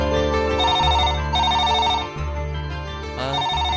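A phone rings with a repeating electronic melodic ringtone, loud and close, in short tonal phrases over a low steady hum with no talking.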